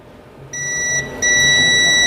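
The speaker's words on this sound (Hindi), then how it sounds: "तो इसके अंदर आप सुनाई देगा कि आपको बीप आ रहा है, तो इसका मतलब है ये फ्यूज सही है।" A multimeter on continuity test across a fuse sounds a loud, pure electronic beep: a short tone, a brief gap, then a second steady tone that holds to the end.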